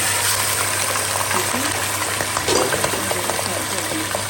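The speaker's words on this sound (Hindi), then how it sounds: "अभी इसमें मैंने घी ऐड किया है, साथ ही मैं गोश्त ऐड कर दूँगी" Chicken frying in hot ghee in a karahi gives a loud, continuous close sizzle with stirring scrapes and crackles throughout.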